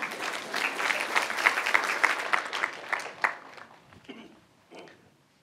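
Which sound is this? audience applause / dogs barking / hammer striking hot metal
audience applause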